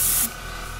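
An airbrush sprays tattoo ink through a stencil in a short, loud burst of hiss up close that cuts off after a fraction of a second, leaving a low steady background hum.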